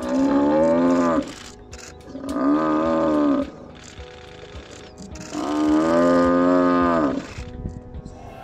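Cape buffalo bellowing during a lion attack at a game reserve in Greater Kruger: three long, loud, moaning bellows of about a second or more each, separated by short pauses, close and clear with no talking.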